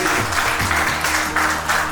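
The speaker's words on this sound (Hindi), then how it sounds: "तालियों की गड़गड़ाहट।" Dense applause from an audience at an association's 25th-anniversary stage felicitation ceremony, loud and continuous with a low hum underneath, swelling in slight waves throughout.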